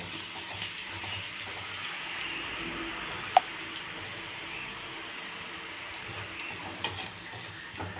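Onions sautéing in a pan over the stove, a soft, steady low sizzle running throughout at moderate distance, with a brief sharp tick near the middle and a few faint stirring clinks.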